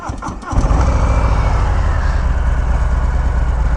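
A stock-piped 2020 Harley-Davidson Low Rider with an M8 engine cranks and fires at about half a second, then settles into a loud, steady, close-up idle with a deep rhythmic lope.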